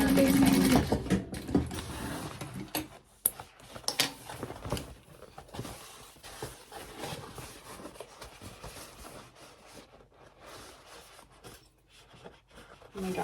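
A sewing machine stitches along the side of a fabric gift bag, sewing beside the interfacing; the motor runs in steady bursts with brief pauses, fairly close and clear, with a little faint talk early on.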